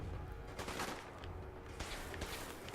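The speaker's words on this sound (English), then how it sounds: "I love the explosions in this game, too." Gunfire and explosions from the post-apocalyptic video game Fallout 4 rumble continuously through a dense, noisy stretch, with broadband bursts suggesting blasts and shots rather than clean, isolated cracks.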